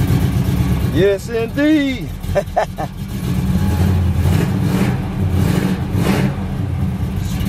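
Supercharged Cutlass engine running after being fixed, a rumbling idle with rising revs, close and loud, while someone talks briefly over it.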